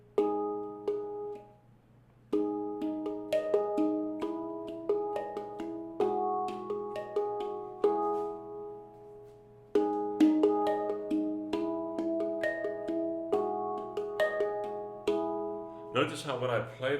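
A steel handpan is struck in a repeating rhythmic pattern of ringing, bell-like notes with a steady low drone, played close and alone before a brief clatter at the very end.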